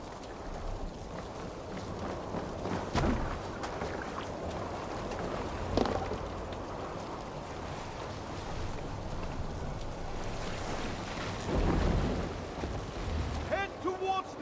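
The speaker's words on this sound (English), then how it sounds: "Head towards the eye of the storm!" Stormy sea in the game Assassin's Creed Valhalla, with continuous wind, rain and wave wash around a Viking boat under steady noise, occasional creaks and splashes, and voices talking over it.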